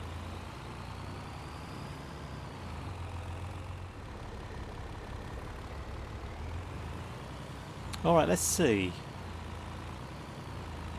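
A truck engine in Farming Simulator 22 idles and rumbles steadily at low pitch, with a brief burst of hissing air brake near the end, while someone speaks a few words over it.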